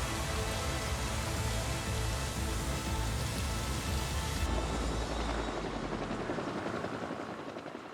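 Firefighting helicopter flying over a wildfire, its loud steady rotor roar filling the whole clip before easing off and fading slightly toward the end.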